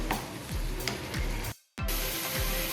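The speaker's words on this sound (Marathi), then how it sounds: "आता हे आपण मंगविस्तवावरती हा मसाला थोडा परतून घेऊया" Ground ginger, garlic, green chili and coriander masala sizzles steadily in a pan while a spoon stirs it in regular scrapes, the frying broken briefly by a second of silence, close and fairly loud for chicken keema.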